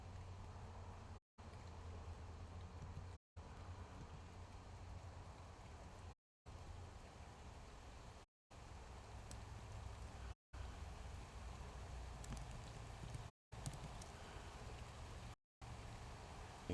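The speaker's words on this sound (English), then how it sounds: "You hear it raining outside." Steady rain falls outside as a soft, continuous hiss and patter, broken by several brief silent cuts; no talk is heard.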